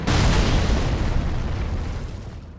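A heavy booming artillery explosion in Dark Souls 3, with a deep rumbling blast that slowly fades.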